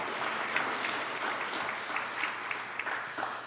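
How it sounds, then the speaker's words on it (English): Church audience at a Black History Month celebration applauding, a dense, continuous patter of many hands clapping at moderate distance, fairly even throughout. "give yourselves a round of applause"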